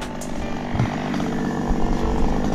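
A chainsaw cutting a tree in the Jamaican bush, its engine droning loud and close without a break, rising slightly as it bites into the wood.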